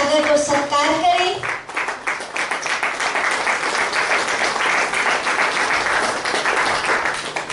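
Loud, sustained applause from an audience welcoming a traffic police subedar as a guest at a Brahmakumaris World Remembrance Day event, following a brief stretch of tonal sound at the start.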